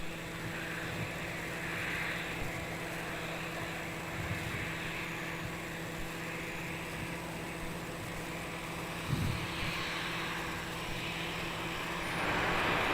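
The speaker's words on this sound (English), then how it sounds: "velocity winding up there on runway 27, departing off to Perth" A 12-year-old Boeing 737-800 airliner sits on runway 27 at Melbourne Airport at night, its jet engines spooling up for takeoff as a steady, distant, broadband roar with a sustained hum that holds and swells slightly toward the end.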